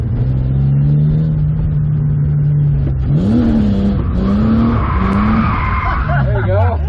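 A BMW E36 drift car screams at wide-open throttle, its engine note holding high before dropping and rising again in bursts of revving, with tires squealing and skidding, loud and close throughout.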